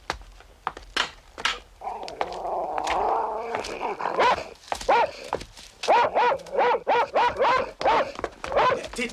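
A dog barks in short repeated bursts and growls at close range, with a voice speaking over and between the noises.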